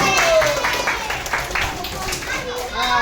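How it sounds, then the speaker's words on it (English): A brief patter of clapping from a group of children, mixed with their chatter and voices. "Clap your hands for Boo."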